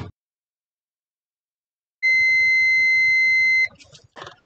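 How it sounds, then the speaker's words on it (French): A steady electronic beep from a multimeter in continuity mode holds for about a second and a half after silence, followed by a few faint clicks and rustles. "On est en mode continuité et ça bip."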